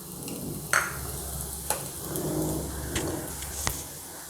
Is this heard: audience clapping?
no